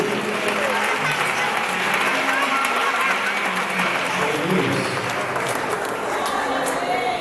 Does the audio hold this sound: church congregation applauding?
yes